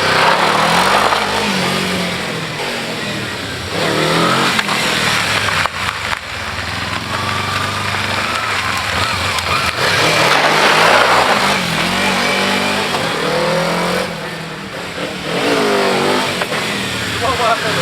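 A Kawasaki KLE250 dual-purpose motorcycle revs hard in first gear for a wheelie attempt, its loud engine rising and falling in repeated surges while a voice talks over it.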